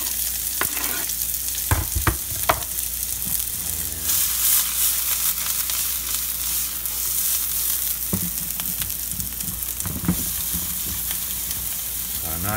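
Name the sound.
onions sauteing in olive oil in iron skillet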